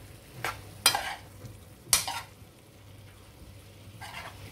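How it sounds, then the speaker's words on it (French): Potatoes and tomatoes are stirred in a frying pan for a potato, tomato and courgette quiche, giving a few short scraping, sizzling strokes that stand out over a quiet background with gaps between them. "Ensuite mes pommes de terre, je les mets à l'intérieur, je vais mélanger, je mélange le tout"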